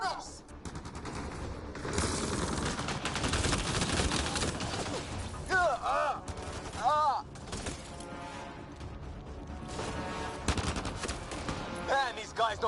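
Sustained video game gunfire in a firefight, dense bursts and volleys running throughout at steady loudness, mixed with other game sounds and shouted voices.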